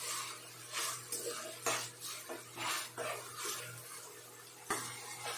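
A utensil stirs and scrapes through onions and tomatoes in a pan, with a soft steady sizzle and repeated scraping strokes close by.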